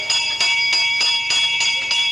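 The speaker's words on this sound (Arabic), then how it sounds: "اول ما الجرس ده يضرب اروح عامل كده بالنور الاحمر ده عشان ما حدش يعدي" A railway crossing bell rings as a stage play effect, striking in a fast, even rhythm of bright metallic dings, close and loud with no voices.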